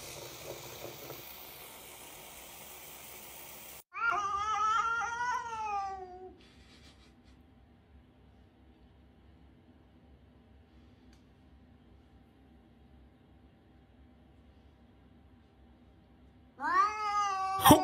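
A cat being wetted with water gives long, loud drawn-out meows close by, one extended yowl after a hissing spray of water, then quiet, then another loud meow at the end.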